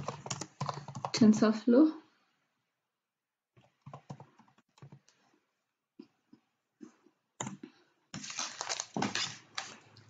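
Someone types a command on a computer keyboard during a software install, a few sparse, faint key clicks between stretches of speech.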